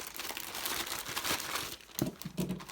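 Packaging for a Glorious Model O mouse being opened, a dense run of close crinkling and crackling plastic with a couple of sharper tearing rips near the end, no talk.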